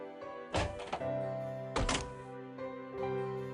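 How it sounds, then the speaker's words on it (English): A door shutting in the video game Date A Live Rio Reincarnation, heard as two sharp thuds about a second apart over steady game music, with no voices. "After the door shut"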